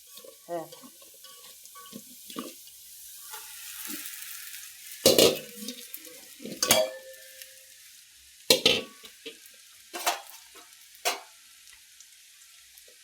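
Sabudana (sago) fries in a pan, giving a soft sizzle broken by several sharp scraping strokes as it is stirred, with a voice talking at times.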